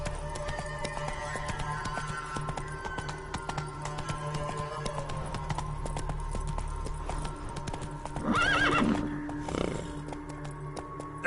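Hoofbeats of the horse Roach galloping in a PS4 video game, a steady rapid clip-clop running throughout over a low game soundtrack, with a brief louder burst near the end.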